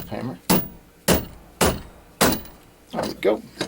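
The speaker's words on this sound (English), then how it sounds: "Got my little shelf hammer." A small shelf hammer taps sharply about six times at roughly half-second intervals, close and crisp, each strike a short ringing knock with brief decay.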